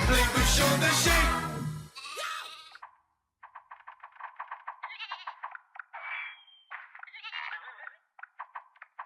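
A cartoon sheep bleats repeatedly in short, choppy calls after loud music ends, the bleats rising and falling in quick bursts, clear and close, with no talking.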